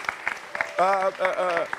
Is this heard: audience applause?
yes